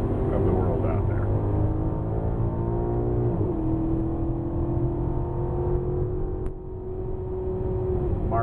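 A 2012 Maserati GranTurismo MC engine drones loudly at steady revs from inside the cabin, its pitch sweeping briefly during a gear change with a transmission blip, with no talking over it.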